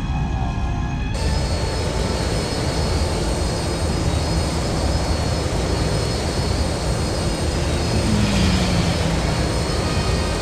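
Starship engines roar steadily and loud in a Star Wars: Jedi Academy space battle over a cargo tram, a dense continuous jet-like rumble with a brief swelling pass near the end.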